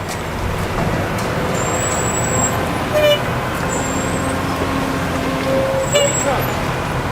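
Trucks driving past outside near a shop extension, a loud continuous roadway rumble with a couple of short horn toots and faint high tones.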